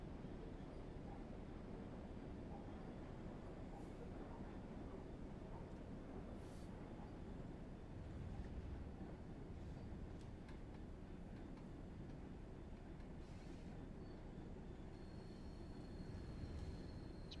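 A heavy freight train in Train Sim World 4 rumbles steadily on its approach to Edinburgh, a continuous low, dense rolling drone with faint clicks and squeaks over it, no talking.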